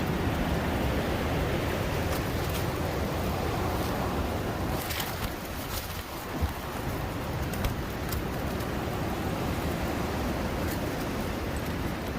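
Steady, loud rushing wind of 50 to 60 mph roars without pause, a dense broadband howl with occasional gusts and faint rattles.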